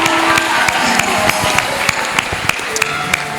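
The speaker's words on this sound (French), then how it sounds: "nous l'accueillons par de fortes acclamations pour la gloire de notre Dieu" A church congregation cheering and applauding a returning deacon, with dense, continuous hand clapping and crowd noise filling a large room, sharp individual claps standing out.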